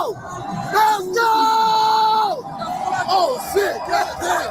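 Rowdy crowd at a Haiti vs Morocco soccer match, cheering and whooping loudly with dense overlapping voices, a sustained chant-like shout in the middle, and continuous excited hubbub throughout.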